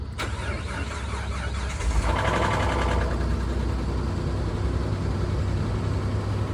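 A turbocharged Mitsubishi Outlander Sport SUV engine with about 100,000 miles idles steadily at close range, a low continuous rumble with a brief rise in intensity early on, no voices.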